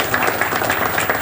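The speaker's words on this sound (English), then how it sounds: "please give me a round of applause" An audience at the 2019 NAMBA Indianapolis celebration and officer installation gives a short round of applause, a brief, dense wash of many hands clapping at once, steady and close.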